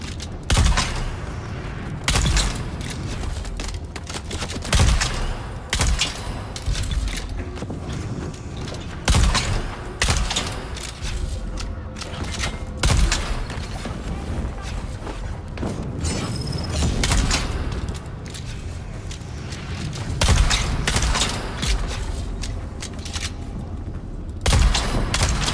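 Gunfire in the video game Dune Awakening, loud repeated shots and bursts popping throughout amid mechanical clatter and in-game effects, with dense overlapping action and no talking.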